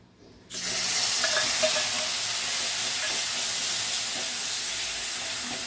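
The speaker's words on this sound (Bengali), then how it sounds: "এবার সেই ভাজা মশলাটা দিয়ে দিচ্ছি, যেটা আমি ভেজে ব্লেন্ড করে নিয়েছিলাম।" Fried, blended spice paste hits hot oil in a kadai for dhaba-style kadai paneer, bursting into a loud, close sizzle that holds as a steady hiss to the end.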